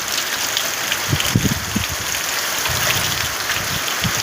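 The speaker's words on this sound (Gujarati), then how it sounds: "વરસાદથી ચાલુ થઈ ગયો, વાયરા સાથે થઈ ગયો।" Steady rain falling with wind, a dense close hiss of drops on surfaces with occasional heavier patters, and no voices.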